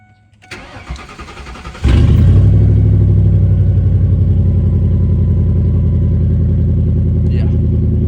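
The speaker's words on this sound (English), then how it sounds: "Now she has a big exhaust leak." A Lincoln Town Car with a big exhaust leak cranks and fires up after a few quiet clicks and rustles, then settles into a loud, raspy, pulsing idle close by that runs unbroken to the end.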